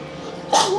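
A woman sneezes once, sharp and loud, partway through, breaking a quiet backdrop at a Japanese ramen and gyoza meal on the Itoshima peninsula.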